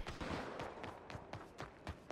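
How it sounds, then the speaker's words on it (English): Gunfire in the video game Red Dead Redemption 2, a quick irregular series of muffled, distant-sounding shots spread over a couple of seconds, fairly quiet overall. "I hear gunshots?"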